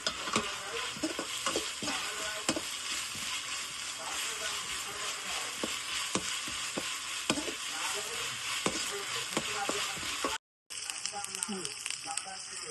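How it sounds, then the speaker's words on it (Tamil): Ginger garlic paste sautés in oil for chicken kulambu, a dense steady sizzle and hiss with frequent light stirring taps, briefly cutting out near the end. "இஞ்சி பூண்டு பேஸ்ட் எண்ணெய் வாசனை போகிறதுக்காண்டி கொஞ்ச நேரம் நம்ம எண்ணெயில் வதக்கிக்கலாம்"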